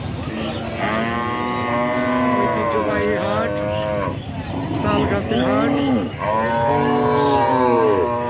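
Cattle at the Talgachhi livestock market in Shahjadpur, Sirajganj, with cows giving loud, drawn-out moos one after another, close by, while people talk in the background.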